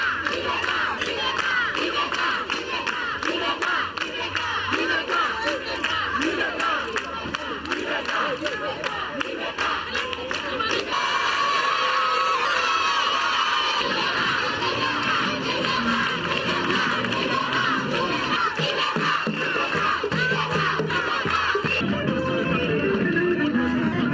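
A large crowd in Mopti, Mali, cheering and chanting for President Ibrahim Boubacar Keïta, a dense, loud, unbroken roar of many voices with shouts and scattered clapping throughout.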